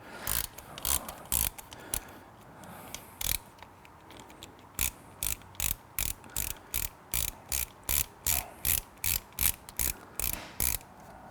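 A ratchet removes the last mid-range speaker screw from the dashboard of a BMW 7 Series G11/G12, with close, sharp ratcheting clicks coming in short bursts and then settling into a fast, even rhythm.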